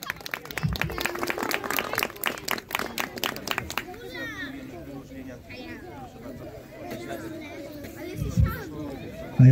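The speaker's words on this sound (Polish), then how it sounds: "Wielkie brawa." Applause at a youth football tournament award ceremony, clapping rising loudly in the first few seconds then fading into crowd chatter and a voice over a PA.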